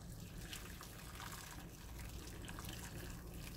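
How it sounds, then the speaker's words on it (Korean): Hot water pours in a continuous, close gushing splash, a steady liquid rush with no voices, heard while preparing potatoes and onion for potato salad. "뜨거운 물을 붓고"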